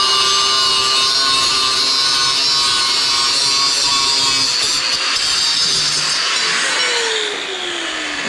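A power saw cuts steadily through an intake tube to shorten it during an LS swap intake install, a continuous loud rasping whine that holds for several seconds before easing off near the end.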